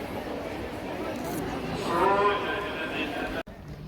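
Cattle low and moo at a farm where cows, bulls and sheep are gathered for a sacrifice, a drawn-out bellow rising near the middle over outdoor background noise.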